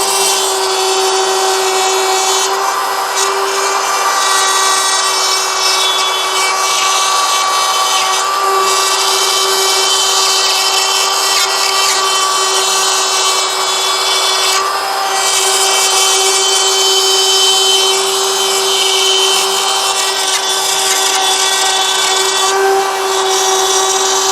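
A Craftsman 20V Rotozip spiral saw cutting a star shape in drywall, a loud, steady high-pitched whine with gritty cutting noise and brief dips as the tool changes direction.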